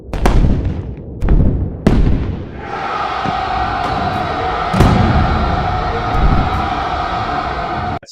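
Show intro of wartime explosions with a crowd cheering at a flag raising: several sharp loud blasts in the first two seconds, then a steady dense roar of cheering and rumbling under one more boom.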